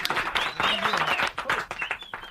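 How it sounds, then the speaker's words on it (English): A studio audience applauds and cheers a guest in a short lively burst of clapping mixed with excited voices and talk. "Y'all give her a big round of applause."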